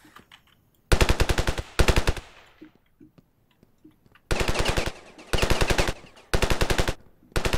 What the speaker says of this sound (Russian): Кто, блин, стреляет?